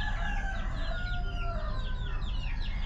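Chickens on a backyard farm crow and cluck continuously, roosters calling over a dense farmyard din, loud and close with no talking.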